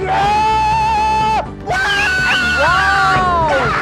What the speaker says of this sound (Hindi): रॉक स्टार बनने के लिए गाना आना जरूरी नहीं, सिर्फ चिल्लाइए।